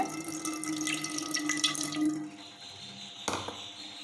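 Tamarind water pours steadily for about two seconds, a bright splashing stream, then stops, followed by a brief clatter near the end.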